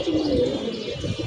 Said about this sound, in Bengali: নিচ দিয়ে এখন কবুতরগুলো দৌড়াচ্ছে